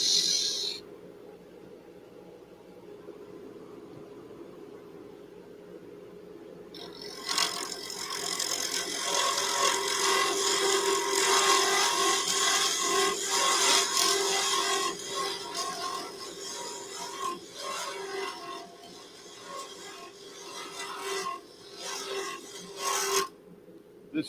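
A glitter-filled Halloween pen blank turns on a lathe while a tool cuts it, giving a steady rasping, scraping whir that swells louder and rougher midway, then eases near the end, with no talk.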